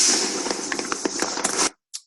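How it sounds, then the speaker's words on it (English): Animated fireworks sound effects burst in a dense, crackling spray that pops and snaps for almost two seconds, then stop abruptly before one final short crackle. "when in a certain frame, those fireworks, and he's got the sound effects too."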